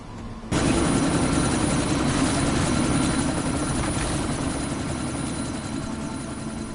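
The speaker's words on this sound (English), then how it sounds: "That chopper's about to take off!" A helicopter in the Deus Ex video game spins up and takes off with a loud, steady rotor and engine roar that starts abruptly and holds constant, fading only slightly toward the end.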